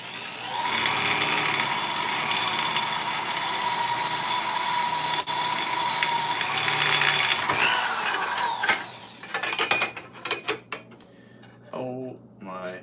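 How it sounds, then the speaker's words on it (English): Power drill running steadily for around eight seconds on a workpiece near a magnet block, a loud continuous whine that stops abruptly, followed by scattered clicks and handling noises. "this I'm going to drill"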